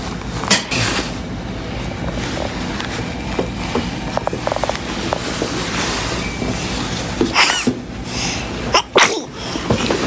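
A sharp, loud sneeze close by rises out of a busy indoor room with rumbling background noise, followed by a second quick burst a moment later, and no one speaks.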